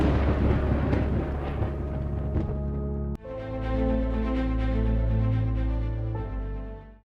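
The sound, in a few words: thunderstorm with strong wind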